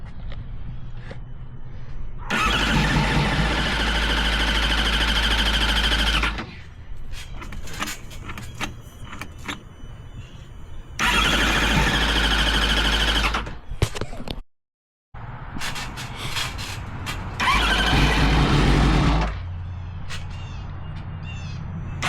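Yamaha R6 sport bike engine being cranked after brake cleaner was sprayed on the throttle body: three long, loud bursts of starter grinding separated by pauses and short clatters, with no clear catch into running.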